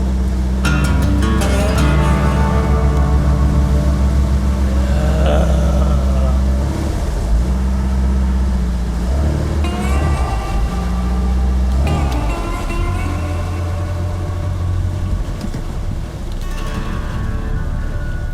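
An outboard boat engine idling steadily out of gear at about 900 rpm with a low, continuous rumble, loud and close, occasionally rising briefly, with someone speaking over it. The boat will not get up on plane.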